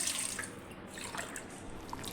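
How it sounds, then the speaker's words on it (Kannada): Water, measured out by the glass, is poured into a cooking pot for ragi mudde, a finger-millet dish, making a steady, soft trickling splash that runs evenly for a couple of seconds. "ಇದರಲ್ಲೇ 6 ಲೋಟ ನೀರು ಹಾಕ್ಕೊಳ್ಳಿ"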